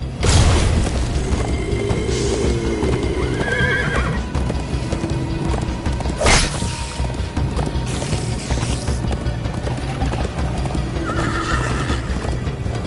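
A horse gallops in the Minecraft Story Mode video game, a steady, loud clip-clop of hooves running for over twelve seconds, broken by several neighs and whinnies and a dull boom, with no talking.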